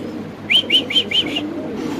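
Danish pigeons give a run of four or five quick, close coos in an even rhythm over a low background hum.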